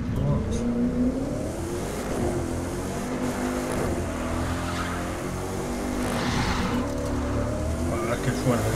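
McLaren P1 (2013) driving in The Crew 2 racing game, engine droning and revving continuously at moderate loudness under excited Spanish commentary from a player.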